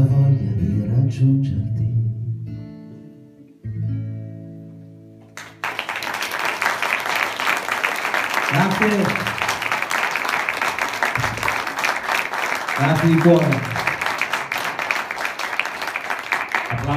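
After the last notes of a song, a live audience breaks into sustained applause for a singer, a dense, even clapping that carries on under a few brief spoken thanks.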